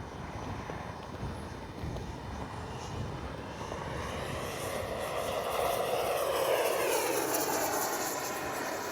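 RC F-15 jet with a 64mm electric ducted fan flying in windy conditions, a continuous whooshing fan roar that swells louder as it passes near, with wind buffeting the microphone.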